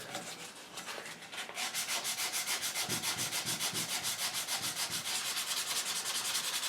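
Hand sanding of an English walnut gunstock for an HW80 air rifle. Steady, rhythmic back-and-forth rubbing strokes, close and fairly loud, repeating quickly with no talking.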